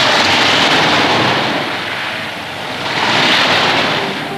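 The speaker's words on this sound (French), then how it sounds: "À chaque mouvement du ressac, elle prend une claque sur le rocher." Heavy surf washes back and forth against a rock, a loud roaring wash that swells, eases in the middle, then surges again, with wind buffeting the microphone.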